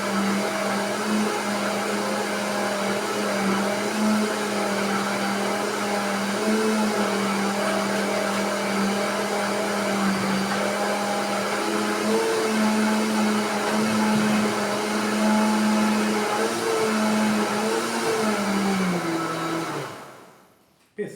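A blender runs steadily, beating chocolate coconut cake batter for a Brazilian prestígio cake, a loud constant motor whine for about twenty seconds that cuts off abruptly at the end.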